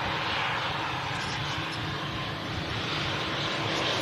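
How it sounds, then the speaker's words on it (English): A Finnair Embraer jet flies past with a strong, continuous engine roar and hiss, loud and close, holding steady for the whole stretch with no voices. "Finnair, Embraer."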